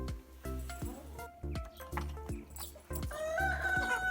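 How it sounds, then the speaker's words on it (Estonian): Several hens cluck and a rooster crows in a busy chorus as the birds are let out of the barn in the morning, the calls overlapping in short bursts, fairly close and steady throughout. "Ja nii lastakse igal hommikul kukid ja kanad rõõmsalt laudast välja."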